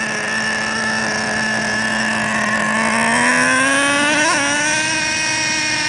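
A Revo RC car engine drones loudly and steadily under throttle, a buzzing high-pitched whine that climbs in pitch as it revs up, close to the microphone, with no talk.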